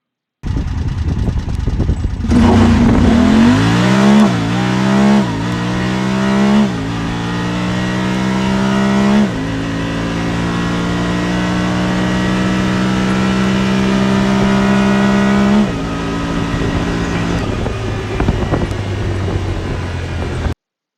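A Honda Pioneer 1000 side-by-side roars on a dyno in high mode, the engine climbing through several stepped revs before holding a loud, sustained pull, then easing off near the end.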